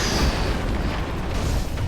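Firecracker prosthetic tool going off during a boss fight in Sekiro, giving a few loud crackling bursts over the game's rumbling background, with no speech.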